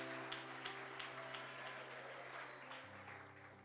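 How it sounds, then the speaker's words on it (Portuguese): Soft applause from a church congregation at an anniversary service comes through faintly and distantly as a thin patter of claps, while sustained organ-like tones sit underneath. "você pode aplaudir ao Senhor Jesus, porque Ele é fiel"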